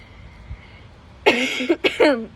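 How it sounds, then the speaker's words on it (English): A couple of quick, sharp coughs close by, following a short quiet stretch. "I just need to cough."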